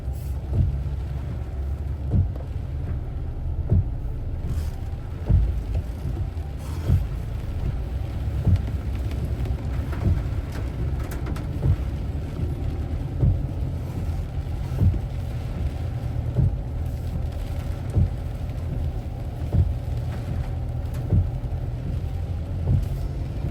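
A storm hits Vientiane, Laos, with steady heavy rain and gusting wind roaring without a break, and repeated sharp drips or knocks falling across it.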